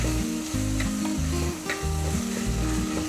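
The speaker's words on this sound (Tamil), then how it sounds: "தக்காளி நல்லா வதங்கிடுச்சு." Tomatoes sautéing for sambar in a pan, giving a steady, close sizzle with faint stirring ticks over a low droning hum.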